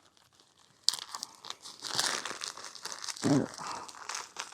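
Wrapped mystery parcel being torn and opened by hand, with bursts of crinkling and ripping plastic and paper close up, alongside a few spoken words.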